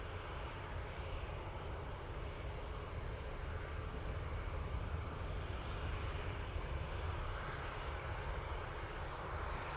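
Ryanair airplane at Dublin Airport, a faint, distant, steady engine rumble that persists evenly throughout with no speech.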